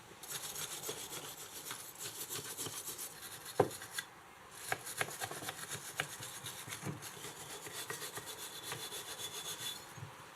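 Abrasive rubbing works rust off a carburetor part from a Ferguson TO35 tractor, a dry rasping scrape repeated in quick strokes, with a couple of sharp knocks partway through.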